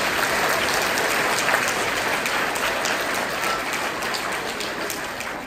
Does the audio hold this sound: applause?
yes